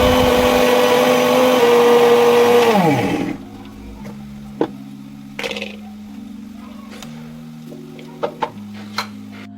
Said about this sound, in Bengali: ততক্ষণ আমি এখানে আদা রসুনটা বেটে নিই